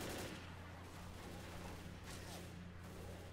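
Gunfire in the Left 4 Dead video game, a dense rapid burst of shots that runs continuously, loud and close.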